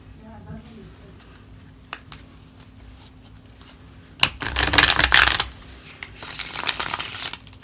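A tarot deck is shuffled by hand in two quick, rustling, riffling bursts close to the microphone, following a quieter stretch with faint speech and small handling clicks.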